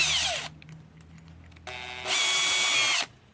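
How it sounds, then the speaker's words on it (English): A power drill bores a hole for a handlebar mount on a GY6 scooter, whining up close in two bursts, a short one and then a longer, steadier run, with a quiet pause between them. "I'm going to do a sort of a slow drill."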